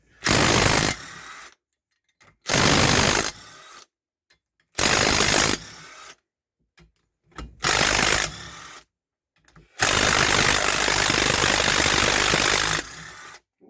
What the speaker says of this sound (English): We'll just undo these bolts.